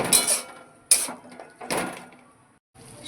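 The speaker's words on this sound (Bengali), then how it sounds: "এবার এর মধ্যে দিয়ে দেবো সজনে ডাঁটাগুলোকে একটু কষিয়ে নেব পোস্তর সাথে" Drumsticks tossed into poppy-seed paste in a cooking pan and stirred, giving a few sharp metallic clinks and scrapes separated by brief pauses, close and without talk.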